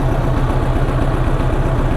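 A 1986 Honda Goldwing GL1200 motorcycle engine idles loud and close, a steady low throbbing rumble with an even pulse and no talk over it.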